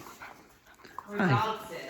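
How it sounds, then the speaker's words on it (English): A small, active dog whimpers softly and then gives a louder whining, panting burst near the end, heard close in a garage being converted into a gym. "We're dog sitting, yeah. He's a little active."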